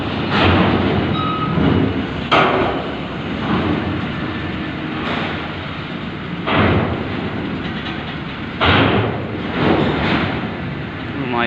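A PS 150 truck loaded with coconuts rolls aboard the KMP Port Link V ferry at Merak port, Banten: a close, steady heavy rumble broken by loud metallic clanks and thumps every second or two, with voices faintly underneath.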